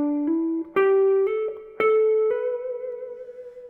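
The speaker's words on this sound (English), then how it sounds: "Riff number 8 is a series of hammer-ons using the scale ascending" An electric guitar plays a slow blues lick of hammered-on notes climbing a scale, each note ringing clean and sustained, alone and fairly quiet.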